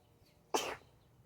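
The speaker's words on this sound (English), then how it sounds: "Oh, I gotta sneeze." A single short sneeze, sharp and close, lasting about a quarter second, a person with seasonal allergies letting it out over a quiet background.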